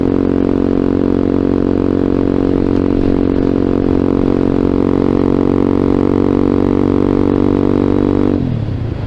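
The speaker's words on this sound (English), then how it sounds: "This bike is pretty obnoxiously loud. I gotta get a different exhaust for it or something." A Vader ZS190 Honda Grom clone motorcycle with an obnoxiously loud exhaust drones steadily while riding, a harsh sustained engine note close to the microphone that drops sharply near the end as the throttle eases off.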